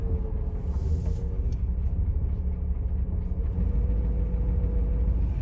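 A 1967 Lincoln rolls down the road with a steady low engine rumble and whirring road noise, heard from inside the car at an even, continuous level.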